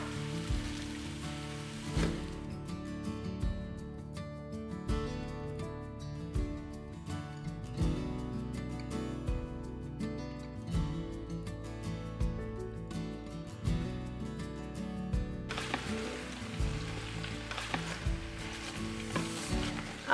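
Sausage sautéing in a soup pot for cabbage and sausage soup, a steady crackling sizzle with occasional stirring clinks, continuous and fairly close, with no voices.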